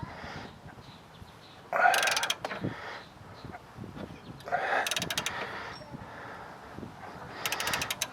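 A hand ratchet backs a sway bar bolt nut out on a 2010 Ford Edge, with three separate bursts of quick, close metallic clicking separated by quieter pauses.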